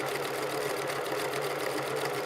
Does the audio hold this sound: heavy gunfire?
no